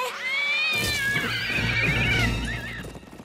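Cartoon horses from an animated pony series neigh and whinny loudly in a long, wavering, rising-and-falling call, with faint hoof clatter beneath and no speech.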